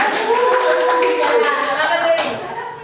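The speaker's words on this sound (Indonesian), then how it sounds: "Beri aplaus dong buat Saripa" A classroom of students claps for a classmate in a burst of close, dense applause that fades out at the end, with voices mixed in under it.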